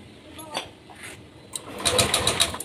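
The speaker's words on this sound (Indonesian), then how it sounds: "Nah, sekarang kita hidupkan starter." A Yamaha Aerox scooter that keeps stalling, in a workshop, has its electric starter cranking in a brief whirring burst that catches into a rising engine note, with faint background noise and someone speaking just before.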